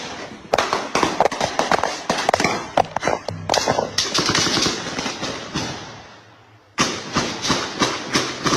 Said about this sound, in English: The sustained nature of the shooting, multiple minutes of nearly continuous gunfire, created terror that many had never experienced.